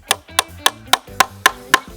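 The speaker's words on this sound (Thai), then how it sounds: "ตอกด้วยตะปู 3 นะครับ" Seven sharp, evenly spaced hammer blows drive nails into wood during a DIY furniture build, each strike crisp and close at a quick steady rhythm.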